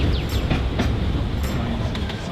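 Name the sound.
train crossing railway bridge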